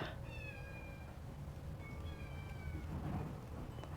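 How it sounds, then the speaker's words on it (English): A cat meows several times, drawn-out and fairly faint, against a low rumbling background. "I hear the kitty."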